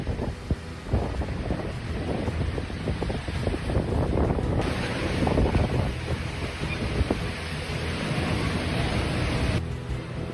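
Stormy wind roars across a flooded marina at Steinhatchee, with waves and surf crashing in a loud, continuous, buffeting rush, the wind hitting the microphone hard throughout.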